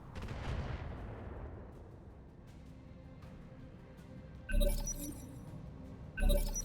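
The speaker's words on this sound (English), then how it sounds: "I'm not surprised that these missiles are missing" Missiles fire in the mech strategy game RogueTech: a booming launch rumble fades away, then two sharp, loud crackling impact bursts land near the end.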